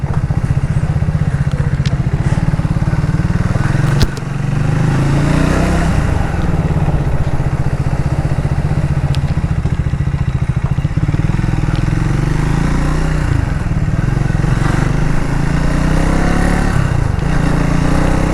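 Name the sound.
Triumph 400 motorcycle engine and exhaust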